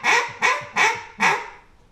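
Four loud, evenly spaced squealing quacks from a Cajun squeal duck call, imitating a hen mallard with a high squeal in each note, close and alone without talk.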